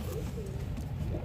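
Fantail pigeons coo softly at their nest in a low, rolling murmur, faint and brief against a rumbling background.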